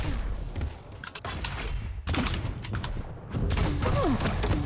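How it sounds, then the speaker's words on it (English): Rocket and pineapple grenade explosions in a fast arena shooter duel: rapid bursts of blasts, thuds and mechanical weapon noises, close and dense, with brief lulls between volleys. "Again, the rocket pineapple combo."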